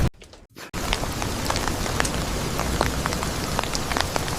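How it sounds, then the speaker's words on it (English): Steady rain falling onto a surface after a brief quiet gap at the start, a dense, close hiss dotted with sharp droplet ticks, fairly loud and continuous. "I hate the rain."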